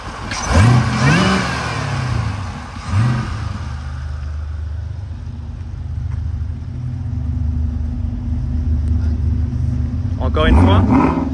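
A car with a supercharged LT4 V8 rumbles loudly up close, giving a sharp rev at the start and another near the end over a steady deep idle, while someone talks over it.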